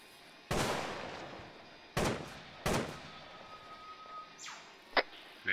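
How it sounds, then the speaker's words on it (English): Gunfire in a Bourbon Warfare military shooter game set in Indochina: three sharp reports ring out a second or two apart and fade with echo, then a quieter crack and another follows near the end. "We're shooting."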